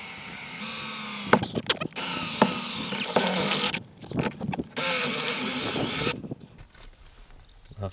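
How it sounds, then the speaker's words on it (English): A power drill whines loudly through the metal of a car's rear brace in long bursts, stopping and restarting several times before trailing off into quieter handling noise. "fly through with the drill"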